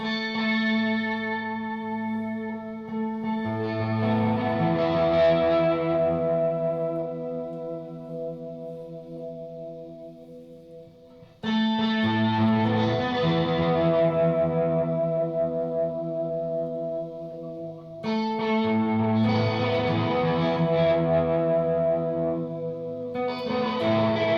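Sustained electric guitar chords ring out through an Electro-Harmonix Memory Man analog delay pedal, with a warm, repeating delay that smears and echoes each strum; three chords spaced several seconds apart.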